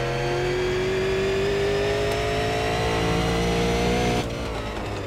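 A super late model race car engine in the iRacing sim roars at a steady high pitch, bouncing against the rev limiter, then drops slightly near the end; loud and continuous, no talking.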